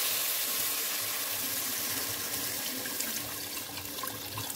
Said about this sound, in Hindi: तो यहाँ भी हमने डालेंगे इसमें पानी